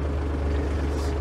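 An ISEKI TG25F tractor with its rotary tiller turning, a steady, close, loud low engine drone and mechanical churn holding evenly throughout with no breaks.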